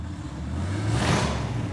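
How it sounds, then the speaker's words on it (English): A custom car's loud exhaust revs just outside a garage shop, a deep rumbling engine that swells briefly in the middle and stays heavy and near. "I start hearing this really killer exhaust coming from outside the shop"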